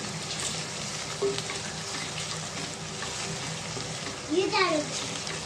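Onions with ginger garlic cumin paste frying in a pan for goat curry, a steady close sizzle with brief stirring scrapes, no talking.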